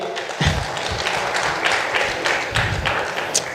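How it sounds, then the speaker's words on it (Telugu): Audience clapping at a film press meet, a thick spread of handclaps with a few heavier thumps mixed in, steady throughout. "ఆ మహానుభావుడికి అందరూ ఒకసారి క్లాప్స్ కొట్టాలి"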